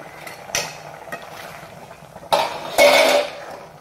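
Cooked keerai greens with dal being shifted into another vessel, with a few scattered clinks early on, then a louder burst of metal pot clatter and scraping near the end.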